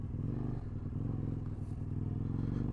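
A motorcycle engine runs rough at idle, its steady low chugging and uneven mechanical clatter close and continuous, with no voices over it.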